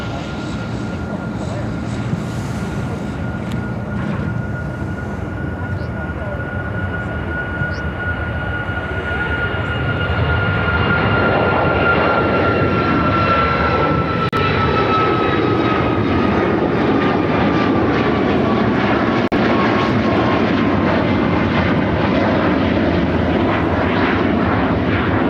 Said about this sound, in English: Airlines 1076 taking off to Charlotte on the MAX 8.